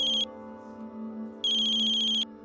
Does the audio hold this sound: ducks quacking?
no